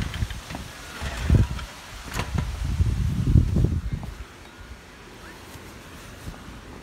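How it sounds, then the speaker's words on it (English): Gusty wind during a Portland, Oregon thunderstorm buffets outdoors in heavy rumbling bursts against the microphone, then eases into a quieter, steady blow. "It's really windy out there."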